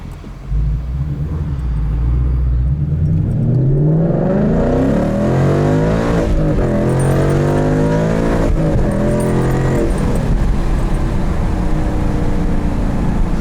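A 2016 Ford Mustang GT Premium Performance Pack with manual transmission revs loudly and steadily close by, its pitch climbing and dropping through repeated rising sweeps with a constant rumble underneath.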